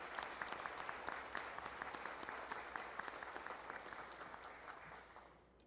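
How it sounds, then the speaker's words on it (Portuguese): Guests at a formal ceremonial session clap for a Military Police unit, a steady crowd applause with crisp individual claps that gradually fades toward the end. "uma salva de palmas a esses homens e mulheres que fazem essa grande unidade da Polícia"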